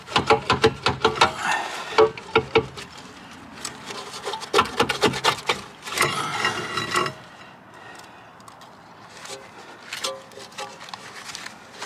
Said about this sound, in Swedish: Men jag fortsätter att skruva av här